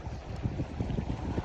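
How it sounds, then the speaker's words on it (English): Strong, steady wind of about 25 to 28 mph roars into the microphone on a lake in the Boundary Waters with a low buffeting rumble that never lets up. "It's mostly just sustained wind."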